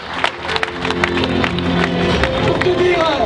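Sustained applause and crowd noise greet the first-place finisher of the Ultra Trail di Corsica, winner Guillaume Peretti, at the home-race finish; steady clapping and cheering mixed with background voices and chatter.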